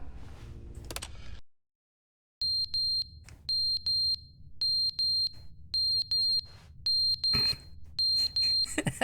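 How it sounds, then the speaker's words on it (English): A smoke alarm in the video game The Stanley Parable: Ultra Deluxe sounds after a brief silence, with high electronic beeps at an even, regular rhythm, sharp and loud, with some clatter in the background. "Oh, smoke alarms."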